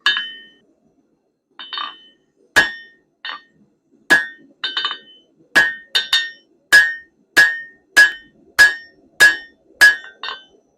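A blacksmith's hammer strikes hot steel on an anvil while forging a leaf, using half-face blows to form a neck: about fifteen sharp ringing clangs, sparse at first, then settling into a quick even rhythm, loud and close.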